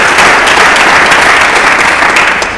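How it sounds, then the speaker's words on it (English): A conference audience at JCrete claps for themselves, a loud, close, sustained burst of applause with dense overlapping hand claps. "I must tell you, you should clap for yourselves."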